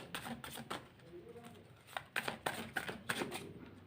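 Tarot cards are drawn and shuffled by hand in a series of quick, crisp riffles and flicks, close and moderately quiet, growing denser toward the end, with a soft voice speaking in places.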